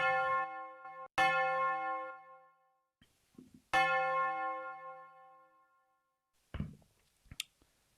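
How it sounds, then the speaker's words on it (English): A bell rung outdoors on a London street on New Year's night, struck twice with loud clear strikes that ring out and slowly decay, followed by faint knocks and clicks. "We got the bell. Let's ring the bell."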